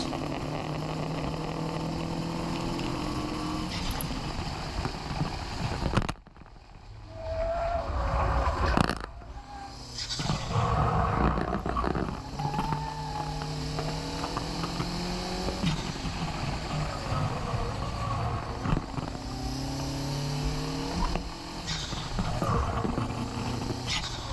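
Racing engines on a circuit lap with a Honda close ahead, loud and near, revving up and down through repeated gear shifts, with a brief dip in the roar mid-lap before it picks up again.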